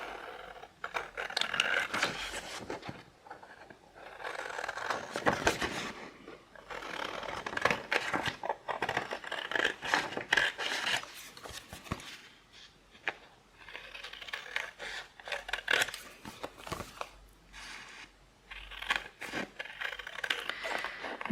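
Scissors cut around paper at a cluttered craft desk, producing close, crisp snips and rustling scrapes in irregular bursts separated by short pauses, with no talking.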